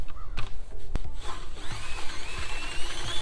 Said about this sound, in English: first I've gotta drill a hole.